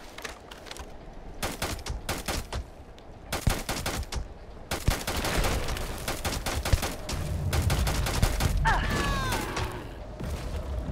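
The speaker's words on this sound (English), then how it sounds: "I didn't mean to shoot you there, Andresia, sorry." Repeated bursts of gunfire from the space video game Starfield, loud sharp volleys coming in quick clusters with brief gaps, some rapid like automatic fire, over a steady game background hum with a faint voice underneath.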